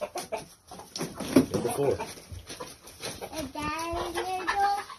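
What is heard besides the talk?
chickens clucking, excited by snake activity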